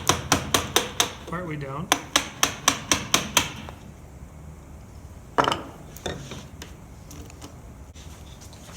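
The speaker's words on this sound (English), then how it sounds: "Take my chisel, and I'm going to chisel" A chisel struck repeatedly with a hammer while cutting a cross lap joint in wood, delivering two quick bursts of sharp, evenly spaced blows, then a few scattered knocks with a short spoken remark.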